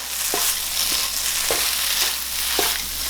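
Glass noodles with white and ground black pepper stir-fried in a pan for pad woon sen: a continuous loud sizzle with regular scraping strokes of a spatula, close and steady.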